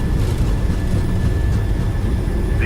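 Steady loud roar of an airliner's engines during the takeoff roll in a flight simulator game, a constant low rumble with no talk over it.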